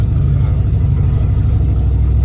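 A pickup truck engine with a turbocharger revs hard and holds a steady loud drone, with a low rumble and a faint turbo whine up high, heard close and without talk.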